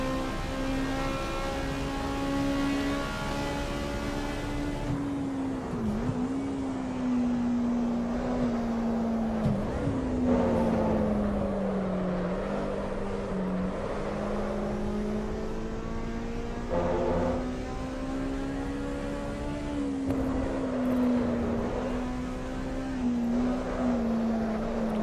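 A high-revving VTEC car engine races in Assetto Corsa EVO, its steady tone drifting up and down through gear changes and lifts for the whole stretch, loud and close with no talking.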